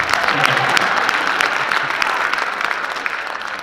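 An audience at a labor and civil-rights gathering for a UAW activist bursts into sustained applause, a dense wash of many hands clapping at a fairly even level throughout.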